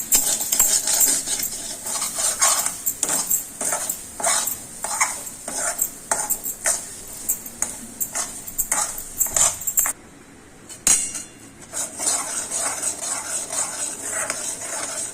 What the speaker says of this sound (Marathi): आपल्याला हे असंच कंटिन्यू हलवत राहायचं आहे कारण कढईला हवा चिकटू नाही द्यायचं आहे